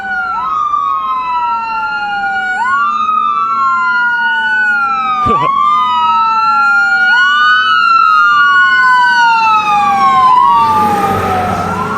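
A fire truck in Canada passes with its siren sounding continuously, loud and close, in overlapping repeating wails, with a sharp horn blast mid-way and road noise swelling near the end.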